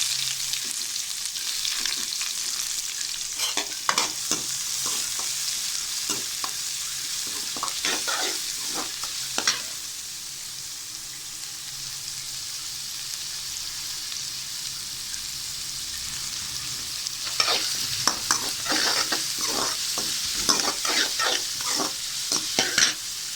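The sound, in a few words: onions frying and being stirred in a pan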